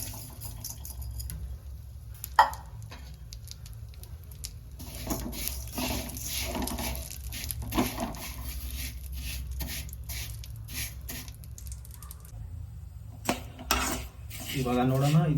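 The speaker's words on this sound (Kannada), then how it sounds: "ಸೊ ಆ್ಯಡ್ ಮಾಡಿರೋ ತುಪ್ಪಕ್ಕೆ ಇವಾಗ ಶಾವಿಗೆಯನ್ನು ಹಾಕ್ಕೊಂಡು ಅದನ್ನು ಹುರ್ಕೊತೀನಿ." Vermicelli frying in ghee in a pan while being moved about, giving soft clinks and scrapes of utensil on metal with faint crackle, steady and close throughout.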